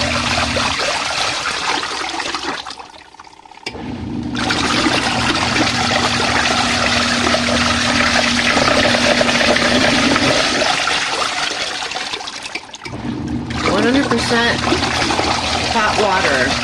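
An RV washing machine runs a 15-minute hot-water deep clean cycle, giving a steady sloshing water rush over a constant motor hum that cuts out briefly twice.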